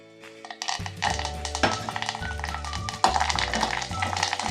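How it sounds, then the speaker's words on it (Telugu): Curry leaf sprigs dropped into hot oil, sudden loud spattering sizzle and crackle that starts abruptly, with stirring clinks and a fresh burst of frying near the end. "కరేపాకు రెమ్మల్ని నూనెలో వేయించుకోవాలి"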